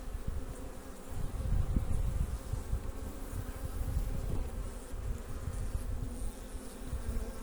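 Honey bees fill an open hive during a spring inspection with a dense, steady buzzing drone, close and continuous, rising and falling slightly in intensity, with no speech over it.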